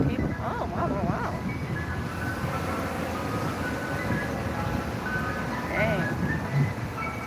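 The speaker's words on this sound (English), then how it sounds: "That's an ice cream truck." An ice cream truck passes nearby outside a vet clinic, its chiming jingle drifting in as a faint, repeating tonal melody beneath ongoing close conversation.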